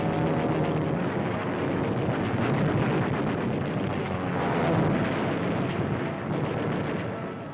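Dense, continuous roar of rapid aircraft wing cannon fire mixed with explosions, loud and unbroken, filling the whole stretch without pauses.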